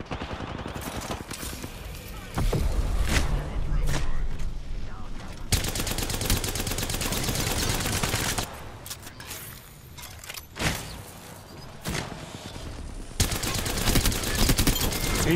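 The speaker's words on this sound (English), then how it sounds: "There's another guy with a sniper shooting from up there" Gunfire in a frantic Apex Legends fight, including sniper shots from a distance: sharp cracks and bursts of rapid shots in clusters over busy game noise, with loud stretches and quieter gaps.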